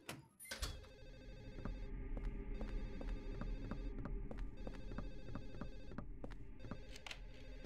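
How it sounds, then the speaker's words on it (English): A telephone rings in the video game Silent Hill 4: The Room, with repeated bell trills pulsing steadily over a low eerie hum and ambient drone. "the sound or the telephone could be anywhere, basically"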